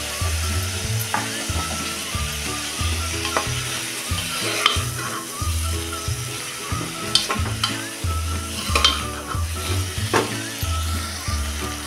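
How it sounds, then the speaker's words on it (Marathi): Ginger garlic paste sizzles in hot oil in a pan for masala rice and is stirred in steady, rhythmic strokes, the spoon scraping close and loud over a constant frying hiss. "आता त्यामध्ये टाकूया ही आलं लसूण पेस्ट"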